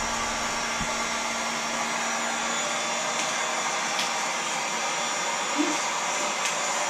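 A heat gun or hair dryer blows on low heat, producing a steady, even whooshing whir that never changes, with a few faint clicks and taps in the background.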